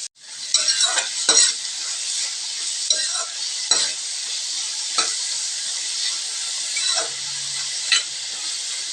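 Sliced large onions hit hot oil and sizzle loudly, a dense continuous frying hiss broken by occasional clinks and scrapes of a stirring spoon, up close in a home kitchen.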